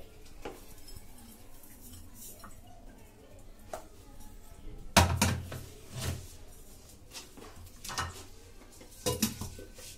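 Crushed Bourbon biscuit powder is scooped out of a grinder jar into a bowl, with quiet rustling followed by a burst of clinking utensils and a few more knocks and taps of spoon against container.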